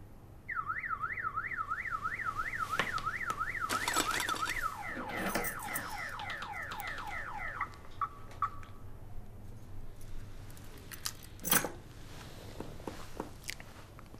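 A car alarm wails in a rapid warbling siren, loud and steady for several seconds before cutting off, followed by scattered clicks and a sharp knock on a street.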